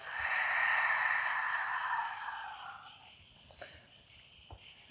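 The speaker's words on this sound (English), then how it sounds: "Full out breath." A long, full exhale during a vinyasa yoga flow, a loud breathy rush close to the ear that fades over about two seconds, followed by quiet shuffling and small movements on the mat.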